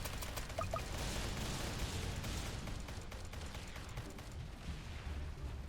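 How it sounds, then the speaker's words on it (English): An airstrike in the Tower Defense Simulator video game: a continuous barrage of explosive blasts and booming rumble, loud and dense throughout, with sharp cracks overlapping the heavy low roar. "Now I can get another airstrike down."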